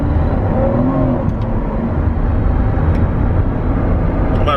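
A car drives onto an expressway in Arizona, a steady engine and road hum heard from inside the vehicle, continuous and fairly loud with no talk.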